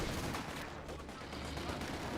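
Dense, continuous gunfire from a Company of Heroes 2 battle, with rapid overlapping shots and machine-gun bursts forming a loud, steady wall of noise that never lets up.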